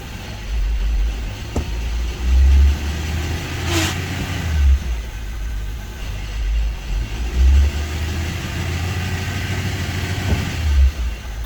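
Honda EK Civic with a manually swapped gearbox pulling in second gear, its mid-pitched engine droning steadily with a couple of brief surges and a low rumble throughout, no voices.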